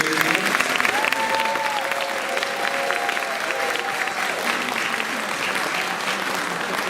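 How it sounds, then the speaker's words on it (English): Audience applause at a fifth-grade school film festival awards event: dense, steady clapping from a crowd that stays fairly loud and even for about seven seconds, with faint tonal sounds in the background. "let's get a round of applause for those people"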